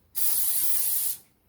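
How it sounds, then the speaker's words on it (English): Cooking spray hisses from a can onto a preheated George Foreman grill in one steady, close burst of about a second, alone with no talking. "spray it with some cooking spray"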